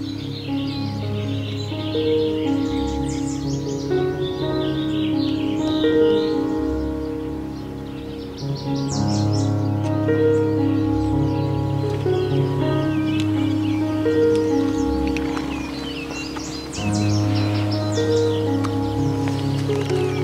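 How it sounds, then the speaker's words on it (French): Birdsong and outdoor nature ambience from a documentary about horses living freely, with chirps and calls layered over a steady bed of music-like tonal sound throughout. "on a déjà des sons d'oiseaux, de nature"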